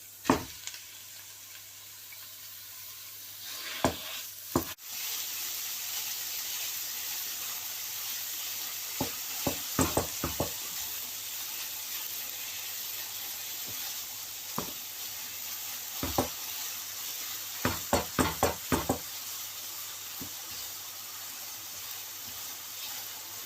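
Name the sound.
mutton mince added to pan and stirred, sizzling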